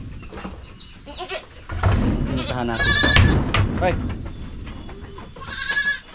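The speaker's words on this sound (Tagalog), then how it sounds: "Nagkakaalitin na yung ating mga kambing" Farm goats bleat and squabble nearby, a mother calling for her kids. Several loud, overlapping bleats rise over someone talking and a brief shout.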